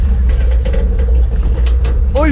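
A tractor engine rumbles low and steady up close, with a voice briefly heard near the end.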